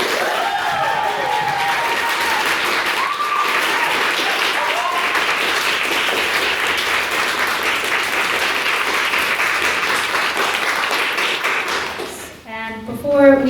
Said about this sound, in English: give another round of applause for both of our maiden speakers